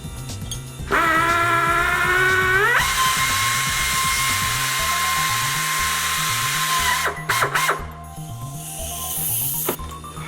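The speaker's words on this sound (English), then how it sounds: "The reason we're using an angle drill instead of a regular drill is the head of the drill would actually hit this." An angle drill bores rivet holes through a center-punched disc, a loud steady high-pitched whine that holds for several seconds, stops briefly, then returns with a rattling bite into the metal.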